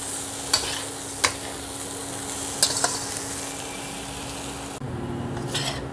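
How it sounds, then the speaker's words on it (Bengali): Tomatoes frying with chana in a pan for Punjabi vendi chana, a quiet steady sizzle with a few sharp scrapes and knocks of the spoon as it is stirred, and no talking. "টমেটোটা দিয়ে একটু নেড়েচেড়ে নামিয়ে নেব।"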